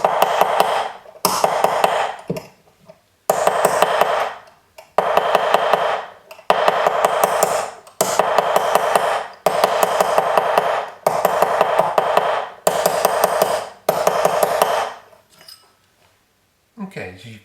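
Hammer tapping a hollow form metal ring on a mandrel, quick clustered metallic strikes in bursts of several blows, repeated about a dozen times with brief gaps, close and clear.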